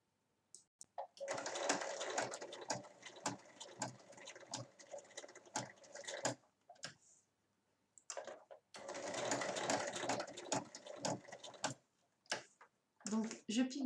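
A sewing machine stitching a fabric health-record cover with a hook-and-loop strip, running in two long, close, rapid bursts separated by brief pauses and clicks.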